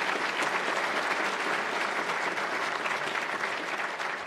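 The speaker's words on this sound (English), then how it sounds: "Give my colleagues a round of applause for that, would you?" Dense, sustained audience applause fills a hall at the 2023 NAS awards ceremony, an even wash of many hands clapping at once, loud and continuous with no pauses or voices breaking through.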